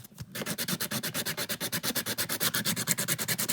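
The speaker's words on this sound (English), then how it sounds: "you want to pretty much try to sand it down as much as you can" A cowrie shell being sanded down for double-sided earrings, a steady rhythmic back-and-forth rasp of quick even strokes, close and fairly quiet, with no voices.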